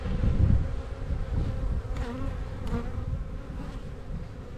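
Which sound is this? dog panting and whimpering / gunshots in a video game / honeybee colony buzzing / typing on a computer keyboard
honeybee colony buzzing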